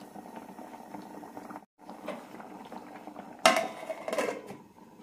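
Coconut milk ghee rice bubbles in a pot, a soft simmering burble interrupted by a brief pause and then a sharp metallic clank of a lid or utensil against the pot, close and moderately loud.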